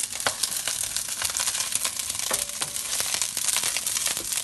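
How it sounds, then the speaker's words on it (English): Rice fries in a hot pan with a dense, steady crackling sizzle, close up, with scattered sharper pops throughout. "So the rice is frying."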